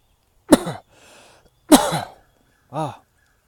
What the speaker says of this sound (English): I'm coughing because I'm opening up nasal canals